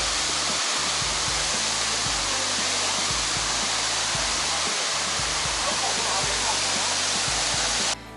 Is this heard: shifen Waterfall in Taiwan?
yes